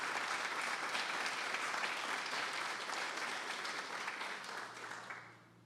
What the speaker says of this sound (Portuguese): Você pode dar uma linda salva de palmas para Jesus?